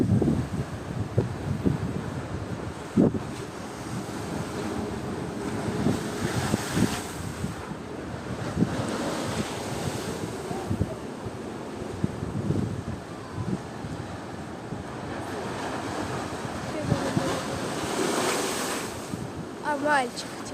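Stormy Black Sea surf at Yalta crashes and roars continuously against the shore, with heavy wind buffeting the microphone throughout and no speech.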